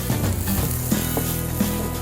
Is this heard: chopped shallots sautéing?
yes